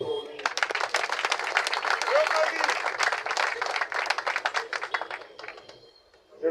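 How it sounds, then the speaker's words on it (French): A political gathering audience in Congo applauds in a steady stream of sharp overlapping claps, with a voice talking underneath and the clapping fading out near the end. "Nous pouvons applaudir pour lui."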